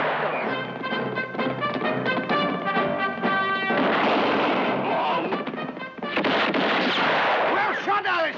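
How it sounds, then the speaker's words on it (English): Gunfire in a spaghetti western shootout: rapid repeated shots cracking in quick succession, loud and close, backed by a dramatic music score, with a harsher burst of firing after a brief pause. "Well shot, Alistair"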